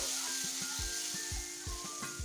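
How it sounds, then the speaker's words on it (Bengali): Water splashed onto fried mangoes in a hot pan for a tangy mango curry, setting off a loud, close sizzle with rhythmic bubbling pops throughout. "আমগুলো এখন ভাজা হয়ে গেছে, আমি জল দিয়ে দিচ্ছি"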